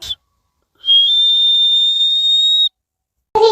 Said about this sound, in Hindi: तियोंग को सीटी मारकर दिखाते हैं।